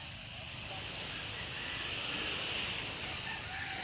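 Open sea surges and washes steadily under a constant rush of wind, a dense, continuous roar heard from on the water, fairly faint.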